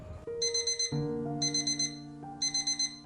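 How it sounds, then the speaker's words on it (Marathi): A morning alarm clock rings in repeated bursts of bright, pulsing electronic beeps over a sustained tone, three clear cycles close to the listener with no talking. "सकाळचा अलार्म वाजतो."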